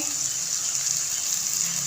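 Half a cup of water is poured into a hot pan of spiced potatoes, giving a steady hissing gush and sizzle that runs evenly throughout at moderate level.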